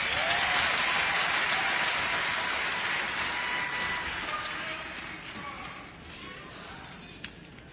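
Audience applause at a teachers' union silver jubilee event, broad steady clapping from a crowd that starts full and gradually thins and fades toward the end, with no speech over it.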